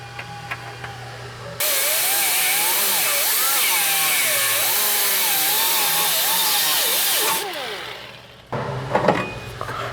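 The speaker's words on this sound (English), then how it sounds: "you want to grind that original bump until it's all the way flat against the original inner frame rail" An angle grinder flattening the original bump on a 1967 Barracuda's inner frame rail: a loud, steady, close metal-grinding whine whose pitch wavers as pressure changes, running for several seconds before cutting off, followed by faint shop clatter.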